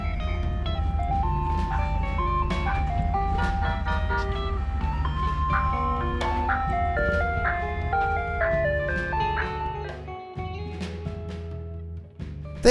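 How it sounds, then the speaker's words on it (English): Ice cream truck playing its looping chime melody while driving through an RV park on the sand, steady and fairly close over a low engine rumble, fading slightly near the end. "on the occasion, you will find an ice cream truck strolling the park as well"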